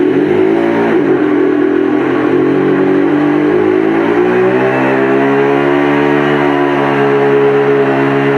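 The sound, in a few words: hybrid car switching from electric motor to engine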